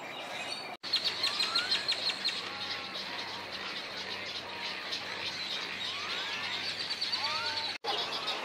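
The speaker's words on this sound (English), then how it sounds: "It's a black and white warbler." High, thin song of a black-and-white warbler repeats over a steady outdoor hiss at High Island, Texas, with other chirps and calls scattered through; moderately distant, no talking.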